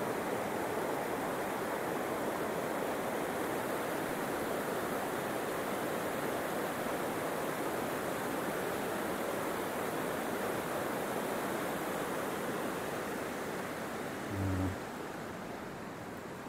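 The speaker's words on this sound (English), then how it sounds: "The rapids. Those are a lot worse now because there's a lot more water coming down." River rapids in high water, a heavy, constant roar of rushing whitewater that fills the whole span at steady loudness, with one brief low thump near the end.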